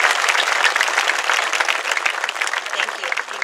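At a high school graduation ceremony, an audience claps loudly and continuously for honored students, a dense, even burst of applause that thins slightly near the end.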